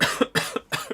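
Three harsh coughs from a person who is unwell, each a sharp burst with a rough tail, close and loud, spaced evenly with short gaps between them.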